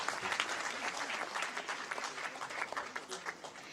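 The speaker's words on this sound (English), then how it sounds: "Let's have a huge round of applause for everyone." Sustained applause from a conference audience, dense steady clapping filling the room at moderate level for several seconds, with some voices mixed in.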